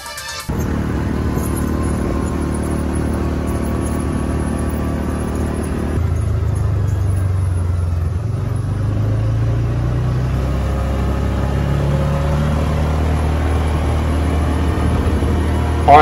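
A buggy engine whose exhaust pipe is held on with wires runs loud and constant while driving, a steady low rumble with a shift in pitch midway, and no talk over it.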